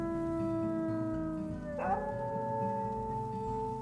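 Several dogs howl together in a sustained chorus of long, wavering tones; partway through, one voice rises sharply before the group settles back into steady howling, up close with no talk.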